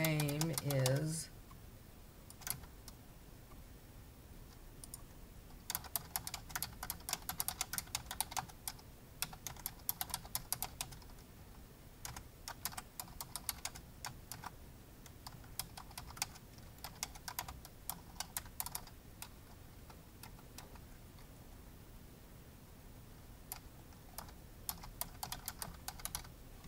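Someone types on a computer keyboard with quiet, uneven bursts of key clicks spread across a long stretch, soft and close, after a brief voice at the start.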